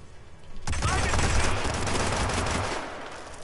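Gunfire erupts in the Hitman stealth game, Paris level, as a sudden loud burst of rapid automatic shots that sustains densely for about three seconds and then trails off.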